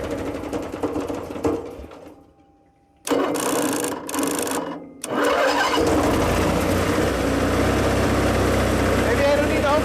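An old generator on a racecar trailer, unused for over ten years, cranks and coughs, goes quiet, turns over in short bursts, then catches and runs rough and loud, with voices talking nearby.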